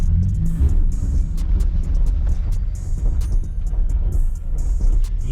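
Chrysler Crossfire on a test drive, its engine and road rumble steady and loud throughout with no talk, the drone rising and falling slightly as the car moves.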